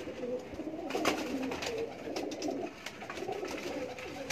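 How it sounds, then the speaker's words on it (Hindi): Pigeons in a pigeon loft in Sheikhupura coo in soft, repeated low throaty calls that overlap steadily from several birds, fairly quiet, with faint background rustle and no clear speech. "देख लें बिल्कुल फिटनेस में कबूतर"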